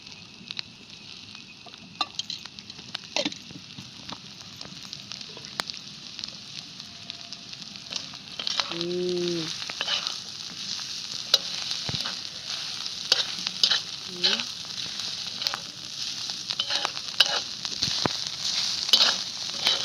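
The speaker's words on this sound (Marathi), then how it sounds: "आता परत टाकणार आहे तळायपुरतं" Chilli frying in oil with garlic and peanuts, a continuous crackling sizzle that gradually grows busier and louder, with occasional clicks of a spoon against the pan, no voices.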